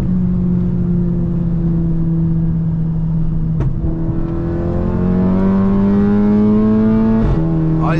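A Volkswagen Golf GTI tuned to 450 hp pulling hard, its engine note climbing loud and close through the gears, with sharp exhaust pops at two gear shifts.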